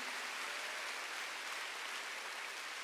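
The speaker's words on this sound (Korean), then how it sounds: "박수를 하세요." A church congregation claps together during a Wednesday worship service, a steady, even wash of applause heard alone at moderate distance.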